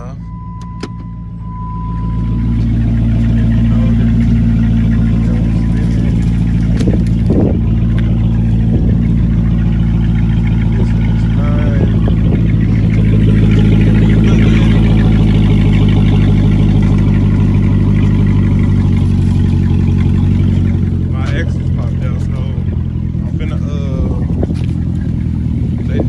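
A Dodge Charger engine runs steadily after being shifted into drive, a loud, continuous low rumble that holds for most of the stretch, with faint voices in the background.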